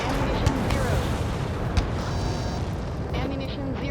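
Bombs exploding in Ace Combat 7: Skies Unknown make a continuous heavy rumble with a couple of sharper booming bursts, and voices are heard over the barrage.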